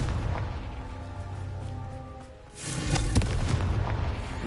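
A Confringo spell explosion in Hogwarts Legacy, a sudden low boom midway that swells into a sustained rumbling burst with crackling debris, loud and close, following a quieter magical hum.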